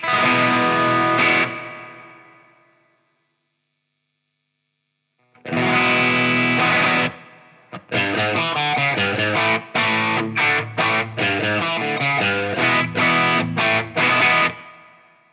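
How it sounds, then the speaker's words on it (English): Electric guitar played through a distorted, reverb-heavy Line 6 HX effect: a sustained chord ringing out and fading, then a rapid series of loud strummed chords with a washy tail. "I'm going to change the reverb a little bit"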